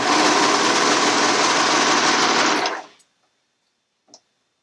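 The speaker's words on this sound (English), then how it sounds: "I don't actually pin this, but I just serge the edge right there" A serger running fast to finish the edge of a neckband, a loud steady whirring hum for about three seconds that stops abruptly, then a brief small click.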